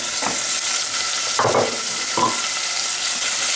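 Pureed tomatoes hitting a hot pan for a veggie curry, giving a loud steady sizzle broken by a few short scraping stir strokes, close up with no voices.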